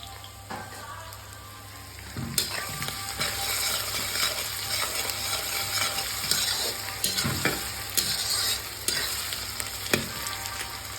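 Steady sizzling of grated ginger, crushed garlic and onions frying in a pan, with repeated scraping and clattering strokes of stirring throughout, fairly close.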